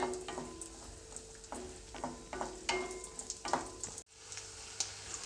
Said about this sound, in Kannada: ಇವಾಗ ಗೋಡಂಬಿನ ಒಂದು ಸ್ವಲ್ಪ ಬ್ರೌನ್ ಕಲರ್ ಬರೋವರೆಗೂ ಫ್ರೈ ಮಾಡ್ಕೊಳ್ತೀನಿ